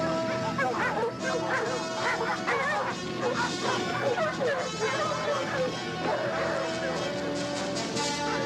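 Several dogs bark and yip excitedly in rapid, overlapping bursts, with whimpers mixed in, set against a steady music score that runs throughout.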